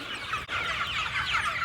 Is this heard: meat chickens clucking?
yes